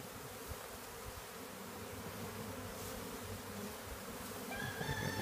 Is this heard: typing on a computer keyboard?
no